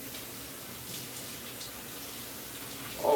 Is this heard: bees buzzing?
no